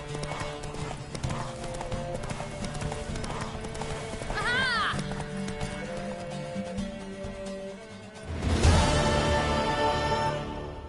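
Horse hooves clip-clopping in The Witcher 3, a steady rhythmic thudding that runs through the whole stretch, with a brief whinny partway along, game music and a voice behind it, and a louder swell of hoof noise near the end.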